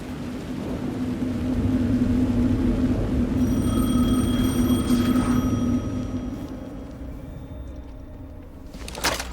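A telephone rings in the video game Alan Wake 2 at Parliament Tower Plaza, a sustained electronic tone sounding over a low droning ambience and fading out before a brief clatter at the end.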